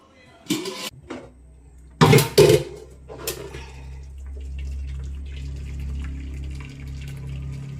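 Long beans being washed under a running kitchen tap: a few clattering handling bursts, then a steady, fairly close rush of flowing water that continues to the end.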